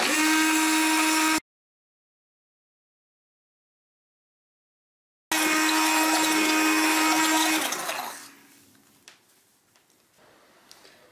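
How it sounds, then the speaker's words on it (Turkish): An electric hand mixer beats a runny batter in a bowl, running loud and steady in two bursts separated by a silent gap, then winding down to faint clinks and handling noise. "Mikserden birazcık daha geçirelim."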